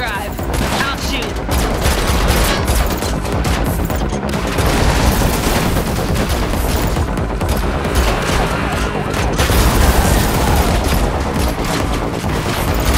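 Rapid, loud gunfire from a vehicle in The Matrix Awakens on PS5, dense continuous bursts and fusillades with sirens wailing behind, sustained throughout and brief voices mixed in.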